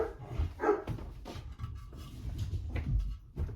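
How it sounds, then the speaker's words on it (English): Household dogs scuffle and play indoors, with low growls, brief barks and whimpers under thumps and clatter, moderately close and fairly faint. "And you can hear my dogs fighting."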